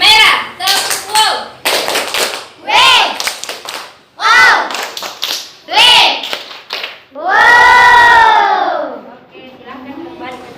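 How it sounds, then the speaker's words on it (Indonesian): Schoolchildren in a primary classroom perform the rhythmic 'tepuk wow' clapping cheer for the red group, with bursts of patterned claps and shouted chant syllables. A teacher's voice and children's voices run through it, ending in a loud sustained group shout. "sekarang kita berikan tepuk wow untuk kelompok merah"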